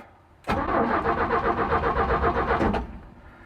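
The engine of a 1967 Chevy C10, parked for 23 years, cranks over with a loud, rhythmic, chugging starter churn that lasts about two seconds and then stops without catching.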